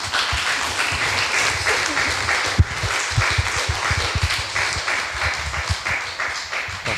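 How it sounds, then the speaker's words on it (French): An audience claps steadily throughout a business talk event, a dense continuous wash of applause at moderate loudness with a few sharper individual claps standing out. "je vous propose qu'on les applaudisse tous."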